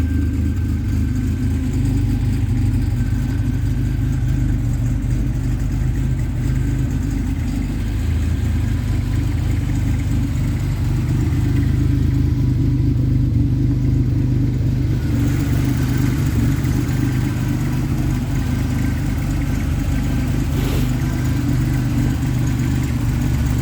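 A car engine runs steadily and close by throughout, a low rumble that idles and rises briefly as if revved, with no talking.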